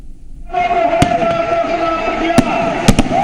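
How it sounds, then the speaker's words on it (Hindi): Fireworks burst over the Ravan Dahan effigy burning at Gandhi Maidan in Patna, sharp loud cracks popping at irregular intervals above a steady roaring crowd and festival din, with several bangs close together near the end. "इस मौके पर शानदार आतिशबाजी का नजारा भी देखने को मिला।"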